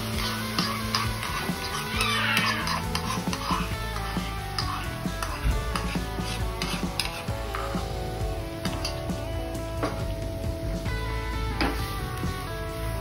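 A spoon stirs and sautés a ground tomato, onion and cashew masala in a hot pan for Tamil chicken gravy, giving a steady soft sizzle with scraping and clinks, mixed with background music.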